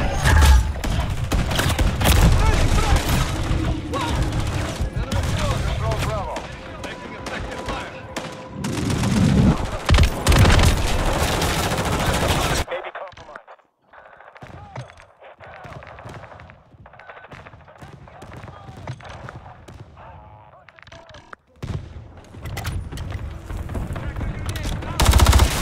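Rapid machine-gun bursts and heavy gunfire from the Call of Duty Modern Warfare 3 (2023) beta, loud and dense for the first half, then sparser distant shots with radio-style voice callouts over the top.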